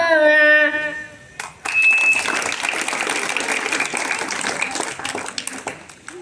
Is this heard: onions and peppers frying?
no